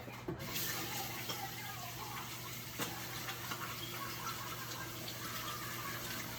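Water runs steadily from a kitchen tap while hands are rinsed clean of bread dough and flour, a continuous faint gush with light splashes, no talking.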